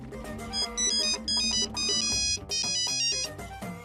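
A melodic phone ringtone plays loud and steady for about four seconds, a bright electronic tune of quick repeating notes with no talking over it.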